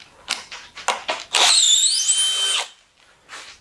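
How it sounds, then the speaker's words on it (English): A drill driver, its chuck clamped tight onto a stripped screw head, whirs loudly for about a second with a rising squeal as it backs the screw out, preceded by several short clicks and taps. "chuck your drill driver on top of the screw head"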